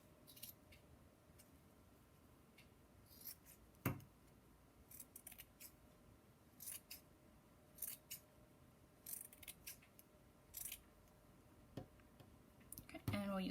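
Scissors snip fabric scraps into chunks for heart pillow stuffing, a quiet series of sharp irregular clicks and cuts spread across the stretch, with occasional handling sounds.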